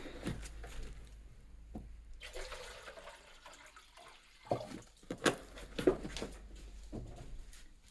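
Water runs and splashes steadily into the water container of a Delonghi Perfecta coffee machine during descaling, with brief drips and gurgles, close by and fairly quiet.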